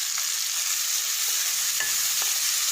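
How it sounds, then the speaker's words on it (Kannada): Tomato and onion frying in oil for a mushroom curry, a steady close sizzle with a few soft stirring scrapes and no voices. "ನೋಡಿ ಈ ಥರ ಚೆನ್ನಾಗಿ ಟೊಮೊಟೊ ಈರುಳ್ಳಿ ಎಲ್ಲ ಫ್ರೈ ಆಗಿ ಎಣ್ಣೆ ಬಿಡ್ತಾ ಇದೆ."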